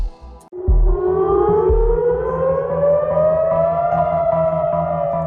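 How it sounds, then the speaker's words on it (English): A loud air raid siren starts after a brief thump and rises slowly in pitch, wailing steadily throughout with a low rumble beneath it. "sirens rang out across Israel"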